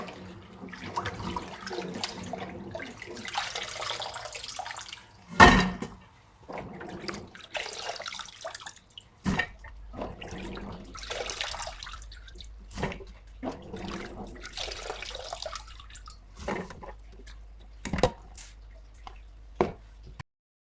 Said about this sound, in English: So we've cut up our celery, and now it's time to give it a bit of a wash.